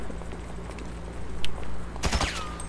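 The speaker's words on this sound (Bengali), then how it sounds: "কি রে গুলিটা করে কে" In the video game GTA V, a short burst of several gunshots cracks out near the end over a low, steady background hum, followed by a thin whining ring.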